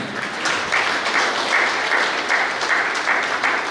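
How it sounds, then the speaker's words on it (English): Steady applause from an audience at a singing competition prize-giving, continuous and fairly loud, with a dense patter of many hands clapping throughout. "Let's give a clap to them."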